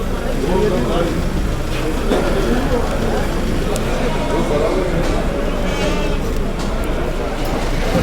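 Goats bleat now and then at an outdoor livestock market amid a busy crowd, with voices chattering and an engine idling in the background.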